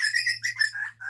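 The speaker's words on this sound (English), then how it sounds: "That's a wild bird outside." A wild bird calls outdoors in a quick series of clear, high chirps and whistled notes, close and fairly loud, with a faint low hum running underneath.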